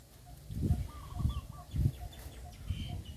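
Chickens cluck nearby in four short, soft bursts spaced about a second apart, with faint background noise and no speech.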